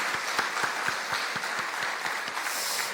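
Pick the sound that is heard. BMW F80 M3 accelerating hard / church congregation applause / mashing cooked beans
church congregation applause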